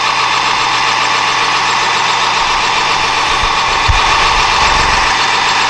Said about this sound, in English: we're going to come down on her